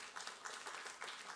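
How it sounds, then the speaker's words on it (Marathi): Audience applause at Bizz Masters, a business and entrepreneurship event, heard as a dense, steady patter of many hands clapping at moderate distance, with no voices over it. "तुम्ही मोठ्या मनानं टाळ्या वाजवल्यात, म्हणून सगळ्या प्रेक्षकांचे मनपूर्वक आभार"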